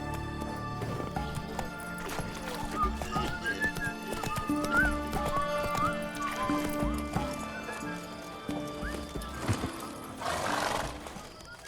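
Horse hooves clip-clop at a gallop in The Witcher 3, with a whinny and snorts over game music and ambience; the hoofbeats continue steadily throughout, with a breathy burst near the end.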